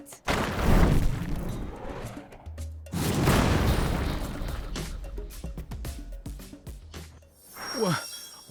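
Two heavy cannon blasts from the Sand Land video game, each a loud, booming hit that decays slowly, followed by quieter game sounds.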